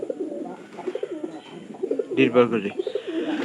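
A pigeon coos softly in short, low rounded bursts beneath someone speaking nearby, with one louder, fuller coo in the middle.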